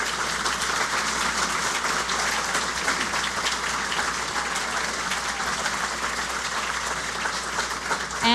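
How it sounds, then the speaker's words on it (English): An audience at a small business awards event gives the finalists a steady, prolonged round of applause, dense clapping filling a large hall without pause. "big round of applause for all of you"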